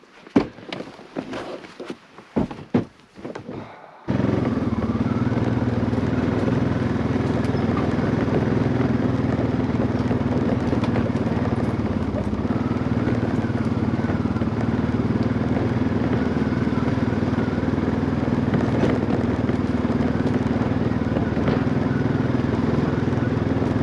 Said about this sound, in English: So let's get the ATV a little farther back in.